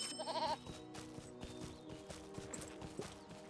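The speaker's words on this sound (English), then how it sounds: "There's another goat." Goat bleating in the video game Lord of the Rings Online, a short wavering bleat near the start over steady game ambience with clip-clop hoofbeats and background noise.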